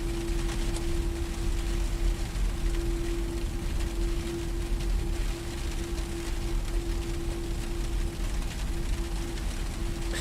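Steady rain drums on the cockpit of a Boeing 757 while the engines idle with a constant low hum underneath, an even, continuous wash of noise with no talking.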